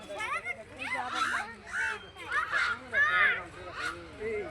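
A child at a zoo imitates the caw of a white crow with a series of short, repeated voiced calls, fairly close and clear against light background noise.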